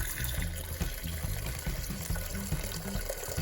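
Wine dumped from a boxed-wine spigot opening into a Vitamix blender jar, a steady pouring, splashing liquid sound running continuously and moderately loud throughout.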